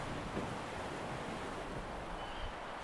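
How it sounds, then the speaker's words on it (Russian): Blustery storm wind roaring over the continuous wash of rough sea waves on the coast of Primorsky Krai, Russia, a dense steady rush with no voices. "Утро встретило штормовым ветром, но от этого море стало еще прекрасней."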